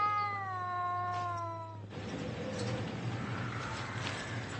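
A cat gives a clear, drawn-out meow up close, then the cry cuts off into a noisy, hissing room background.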